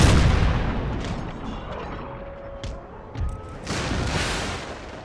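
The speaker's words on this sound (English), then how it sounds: "All cannons, fire on their cannons" Cannon volleys in an Empire: Total War mod battle, Confederate Republic Brothers vs. Brothers, a loud boom up front fading into rumbling, scattered distant blasts and battlefield noise.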